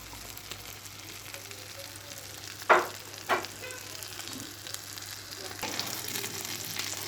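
Trout fries in butter in a pan with a steady close sizzle, broken by two sharp clinks or pops near the start and a slightly louder crackle toward the end.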